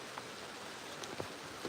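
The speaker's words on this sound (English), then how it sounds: "as the rain starts, you can hear the rain starting to get stronger" Rain beginning to fall harder, a faint steady hiss of drops on surfaces with a few brief louder patters scattered through, no voices.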